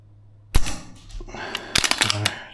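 A VFC URGI gas blowback airsoft rifle fires at an outdoor target: a sharp, close crack, then a second burst of quick snapping shots with mechanical clatter from the bolt.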